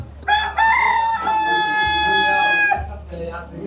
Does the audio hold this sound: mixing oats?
no